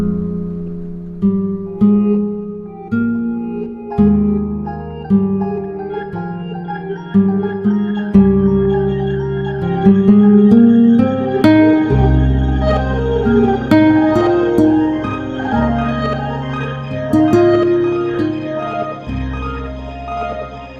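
A synth line runs through the Soundtoys Crystallizer granular echo effect with a half-note delay, repeated notes smearing into shimmering, reverberant trails that build into a dense wash, loud and without talk.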